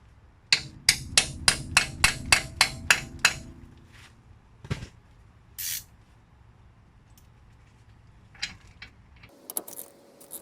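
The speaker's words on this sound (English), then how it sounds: "you might want to use a hammer to get it in there." Sharp metallic hammer blows drive a bolt into a bolt hole on a 1974 Chevrolet front suspension in a quick, even series of about nine, then a few scattered knocks and clanks follow, close and loud.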